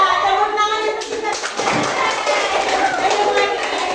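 Children in a classroom clap together in a lively burst that starts about a second in, with a teacher's voice and kids' chatter over it.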